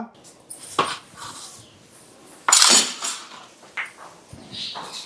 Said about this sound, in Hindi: मुझे बर्तन मांजू हूँ